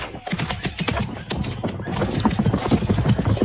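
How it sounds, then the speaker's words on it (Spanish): Radio drama effect of a horse and rider galloping away, a rapid flurry of hoofbeats drumming at a steady, driving pace, fairly loud and close, with no voices over it. "Caballo y jinete partieron como un huracán."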